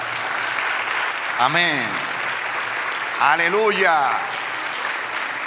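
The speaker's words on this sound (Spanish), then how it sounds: "Dale un aplauso al Señor." A church congregation applauds during a service, a steady wash of clapping lasting the whole stretch while voices call out over it.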